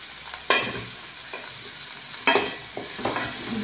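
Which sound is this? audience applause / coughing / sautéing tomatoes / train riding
sautéing tomatoes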